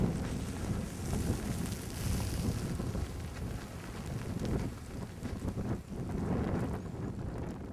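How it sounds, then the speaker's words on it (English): Fierce blizzard wind during a February 2010 snowstorm in Annapolis, a steady broadband roar buffeting the microphone with gusty surges and brief lulls, loud and continuous throughout with no talking. "And I'd say this storm is being quite fierce."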